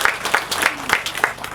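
Clapping at a house opening ceremony comes in a slow, regular rhythm of about six close, sharp claps, with faint voices underneath.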